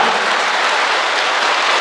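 A crowd applauds loudly for a mother honored as a donor, dense continuous clapping filling the room without pause and no voices above it.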